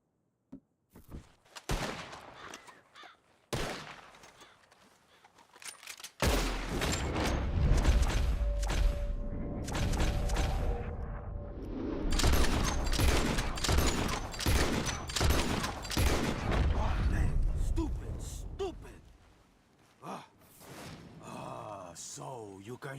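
Red Dead Redemption 2 gunfire aimed at flying birds: a few sharp, isolated shots open, then a dense volley of rapid, loud reports rolls on for several seconds before fading, with talking throughout.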